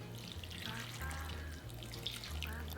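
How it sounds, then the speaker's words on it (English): Warm water is poured over Sichuan peppercorns, scallions and ginger in a bowl, making a soft, steady trickling splash that shifts in pitch as the bowl fills, heard close and quiet, alone. "Pour in the warm water."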